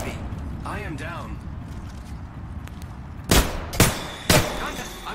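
Enemy gunfire in Apex Legends, three loud, sharp shot bursts in quick succession near the end, following quieter game sounds and chatter.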